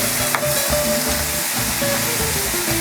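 Spicy chilli sauce sizzles hard in a pan on full heat, a loud, dense, continuous crackle with steady bubbling and no voices.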